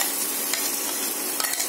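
Tomato and coriander chutney stirred in a hot pan after the stove is switched off, a brief close scraping and stirring with a soft sizzle and a few sharper clicks of the spoon, with no voices.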